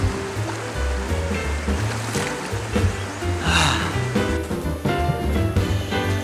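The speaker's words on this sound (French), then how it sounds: "j'espère que c'est pas seulement juste des petits rapides comme ça" Small river rapids rush and churn continuously close by, a broad, steady watery roar with bubbling surges and no voices.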